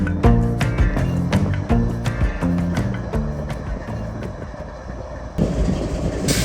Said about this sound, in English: A DPU sits behind a Pasco to Fresno freight and a ready track, telling me a southbound might soon be leaving.